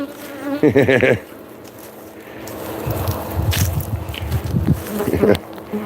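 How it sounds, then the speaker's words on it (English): Honeybees buzz around a yard near a trailer, a close, wavering hum that swells as individual bees pass by the microphone, with a few louder fly-bys standing out against a softer background drone. "I think these are Bruce bees."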